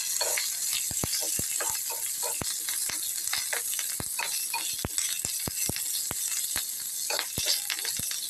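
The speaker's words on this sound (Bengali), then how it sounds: "এবার এটা একটু নেড়ে নেব" Mustard seeds and spices fry with curry leaves in a pan, a soft steady sizzle broken by sharp irregular clicks and light scraping as they are stirred.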